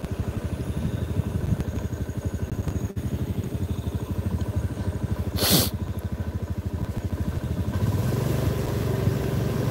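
Motorcycle ride on a road, the engine running steadily throughout with a rhythmic pulsing drone, a brief hiss and clatter midway, no talking.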